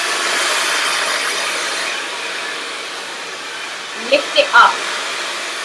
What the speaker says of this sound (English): take the section from underneath and just blow dry over the top